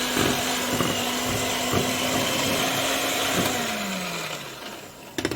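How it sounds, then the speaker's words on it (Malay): An electric mixer whirs steadily through butter biscuit dough with flour and milk powder, a constant motorised hum with faint rhythmic knocking, easing off slightly before stopping near the end. "Kemudian kita mixer lagi hingga dia bergaul semua ya"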